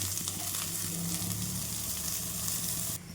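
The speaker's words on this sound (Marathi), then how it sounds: "तर छान भाजून घेते पॅनमध्ये" Spiny gourd (kantola) roasts in a pan with a continuous crackling sizzle and light stirring clicks, fairly loud and close, dropping slightly at the very end.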